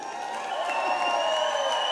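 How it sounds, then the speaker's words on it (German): Audience applause at a German Christmas party, a steady wash of clapping with faint cheering, moderately distant, over a sustained tonal background. "Voll Applaus für den offenen Kanal!"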